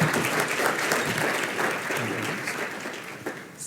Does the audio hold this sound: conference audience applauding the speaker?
yes